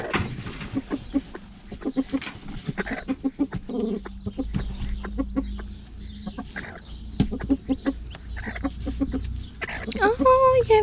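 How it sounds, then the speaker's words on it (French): Hens clucking and cooing nearby, with a small chick among them, in a run of repeated short bird calls while a person talks over much of it. "Oh, il y a un petit poussin."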